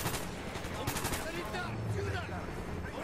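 Rapid gunfire and automatic bursts crackle in Call of Duty Black Ops, loud and continuous across the moment, with a voice speaking over the shooting.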